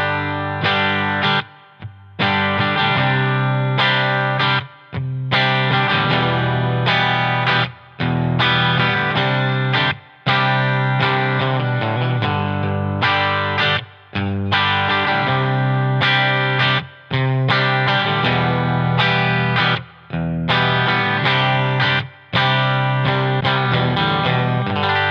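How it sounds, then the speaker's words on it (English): Clean electric guitar playing through a hybrid pedalboard with spring reverb on and a slightly boosted high end, a steady run of strummed chords with brief gaps, loud and close with no voices. "let's turn on some spring reverb"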